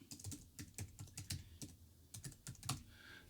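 Fingers typing a password on a computer keyboard, a quick close run of separate key clicks with short pauses and no voices.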